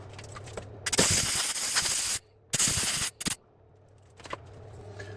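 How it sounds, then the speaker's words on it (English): Several sharp bursts of acetone spray hiss loudly at close range on a Roborock S7 Pro Ultra robot vacuum's mopping part: one long blast, then two shorter ones, separated by quiet pauses. "I will spray that acetone away"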